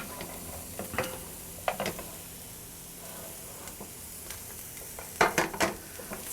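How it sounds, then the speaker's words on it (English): Coarsely chopped onions sautéing over medium-high heat in a hot pan for homemade pizza, a low steady sizzle broken by bursts of spatula scraping and stirring clatter, no talking. "I'll put my onions in there now."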